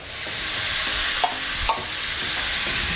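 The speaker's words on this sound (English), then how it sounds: "So I'm just gonna try to sear it the best I can." Lamb sears in a hot pan for rogan josh, giving a loud, steady sizzle that fills the whole moment, with a couple of brief scrapes as the meat is stirred.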